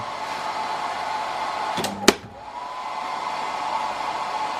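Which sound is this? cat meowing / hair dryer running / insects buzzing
hair dryer running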